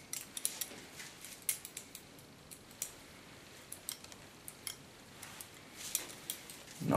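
Scissors snipping hair during a boy's haircut, a quiet, irregular run of small metallic clicks and snips close by, with no talking.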